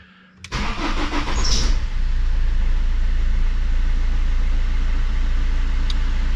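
A BMW engine cranks briefly and fires straight up after an oil and filter change, settling into a steady, close, even idle that runs alone without talk.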